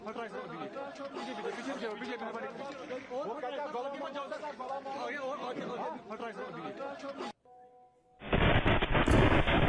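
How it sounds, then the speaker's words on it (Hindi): Crowd chatter fills the air, drops to near-silence for a moment, then a sudden, loud ammonium nitrate blast inside a police station erupts and roars on until the end. "थाने के अंदर जोरदार धमाका हुआ।"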